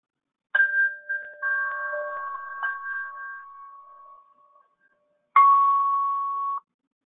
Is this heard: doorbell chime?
yes